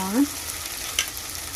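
Ginger garlic paste sizzles in hot oil with fried onions for mushroom curry, a steady close frying hiss with a brief utensil clink.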